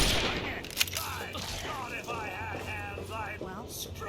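Distant gunfire in the video game Fallout 3, scattered shots under steady game voices talking over a low ambient hum.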